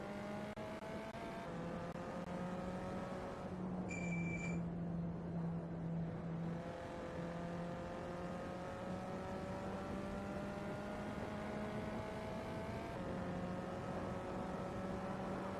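VW Up Cup race cars circle a track warming their tires, small engines droning steadily with shifting pitch as several cars run together, near and continuous.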